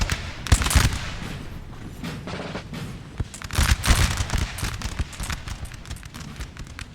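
Musket volleys crackle across a battlefield in Napoleon: Total War, with dense, overlapping bursts of gunfire and sharper cracks near 0.5, 3.2 and 4 seconds over a constant rumble of distant shots.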